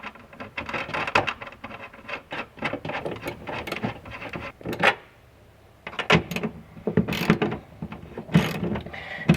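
Tail light mounting bolts being tightened by hand on a Subaru BRZ / Scion FR-S, with quick clicking ratchet bursts and small metallic taps, a brief pause in the middle, then more close ratcheting.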